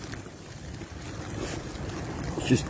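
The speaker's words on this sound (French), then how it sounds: "Dehors il y a une tempête de neige." Steady, moderate wind noise roars against a half-collapsed tent during a morning snowstorm, a constant broadband rush with slight gusting swells and a brief thump near the end, no voices.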